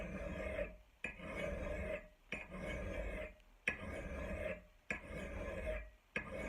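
An axe blade is sharpened with a hand file in steady, rhythmic rasping strokes, about six long scrapes with short pauses between them, close and fairly loud with no talking.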